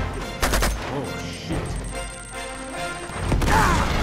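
Gunfire in the Uncharted video game: several sharp shots in quick bursts mixed with impact crashes, loud and close, over a background of game sound.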